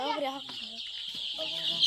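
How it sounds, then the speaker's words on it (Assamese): Chickens on a poultry farm housed about 600 to a shed under lights, clucking steadily at close range over a continuous high hiss, with a brief voice-like murmur partway through. "ইয়াতে মানে 600 মুৰ্গী আছে"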